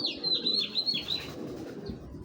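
A racing pigeon, a long-distance male, gives soft close cooing and thin high chirps in a short run, quiet and alone without talk.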